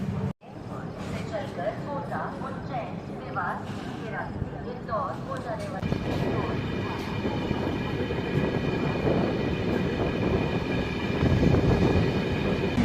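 Jaipur-Chennai Express pulling away after engine coupling, a steady loud rumble of rolling coaches and wheel noise building over several seconds, with a voice talking over it.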